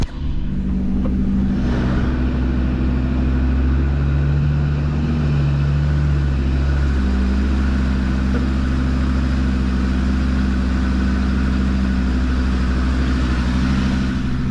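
A car drives up a narrow North Wales lane with a loud, steady engine drone and low rumble that stay close throughout, with no talk.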